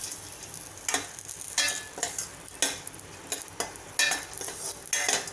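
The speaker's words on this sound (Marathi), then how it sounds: "हे पण 1 मिनिटभर एकदम बारीक गॅसवर छान परतून घ्यायचे आहेत आपल्याला।" Dry fruits sautéed over very low heat for sheer khurma, a soft continuous sizzle punctuated by regular scraping stirs of a spoon in the pan, close and moderately loud.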